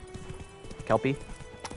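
Horse hoofbeats patter at a steady gallop in The Witcher 3: Wild Hunt, moderately loud, under someone speaking a word partway through.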